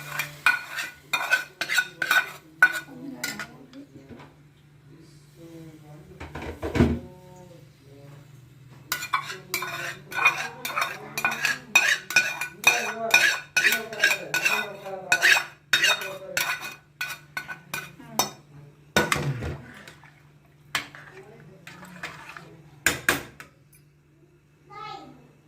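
Pongal is stirred in a pressure cooker pot with a spoon, giving repeated scraping clinks and knocks against the metal at a steady, busy pace. A voice is heard now and then, and a low hum runs beneath throughout.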